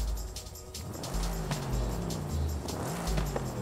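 A car engine in the racing video game Forza Horizon 5 drones steadily at moderate level, with gear shifts and revving changes audible and no speech over it.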